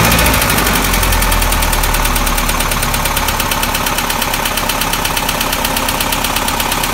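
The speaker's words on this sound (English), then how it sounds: "Gonna give it a few revs here." A loud, rough 1965 International Scout 800 engine runs steadily at close range, its throaty knocking rising in a rev and then holding at a constant roar.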